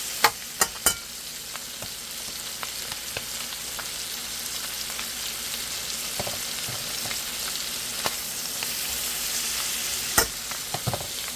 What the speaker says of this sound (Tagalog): Sinigisa ko na po yung ating sahog sa ating pansit canton.